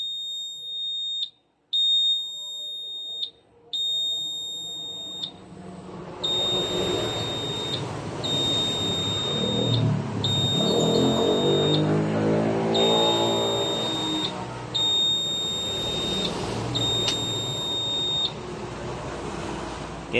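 A car ECU signals ID registration after a reset with a row of sharp, high electronic beeps in even bursts, recurring over a low mechanical rumble and broadband noise that swells midway.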